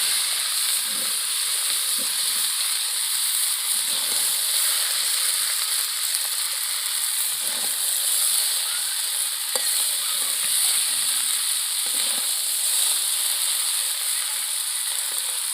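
Chow mein noodles frying with vegetables in a hot pan give a loud, continuous sizzling hiss, broken by intermittent scraping and stirring sounds, with no talking.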